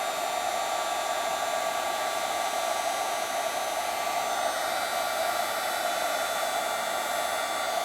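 A heat tool blows a steady, loud, whooshing hum without a break while it melts embossing powder on a handmade card, and no one speaks.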